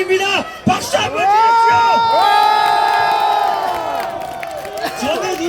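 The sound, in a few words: crowd applauding and cheering at a student rally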